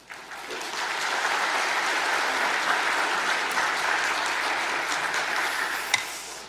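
A church congregation breaks into loud, sustained applause for a visiting missionary during a worship service. The dense clapping swells quickly and holds steady for about six seconds before fading, ending with one sharp clack.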